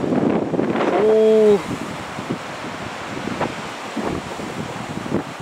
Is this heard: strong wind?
yes